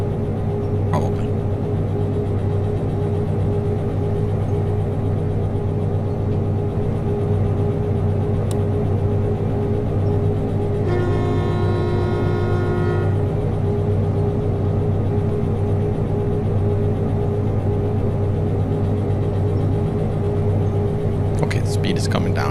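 A locomotive in Derail Valley runs with a steady low engine rumble and drone that holds constant throughout, with a brief tonal whine partway through and a faint voice murmuring.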